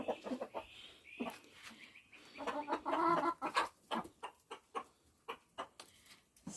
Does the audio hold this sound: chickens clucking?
yes